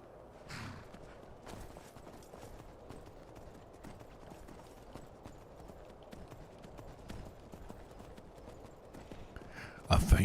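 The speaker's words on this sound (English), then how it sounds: "I see how well this dwarven horse of a shit works" Dwarven horse hooves in Skyrim clip-clop in a quiet, steady walking rhythm, with talking over them and a sudden loud burst at the very end.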